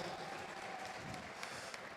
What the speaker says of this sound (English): A round of applause, ladies and gentlemen